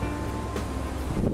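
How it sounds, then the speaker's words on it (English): Wind buffets the microphone in a constant low rumble with a rushing, surf-like wash, rising slightly toward the end, at a park in the Wisconsin Dells in July. "It is very windy here, super."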